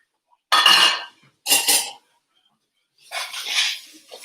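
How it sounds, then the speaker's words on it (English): Vegetables drop into a pot of hot roux in three bursts of sizzling and clattering, two short and close together, then a longer, softer hiss after a pause, with silence in between. "I'm going to add in the vegetables."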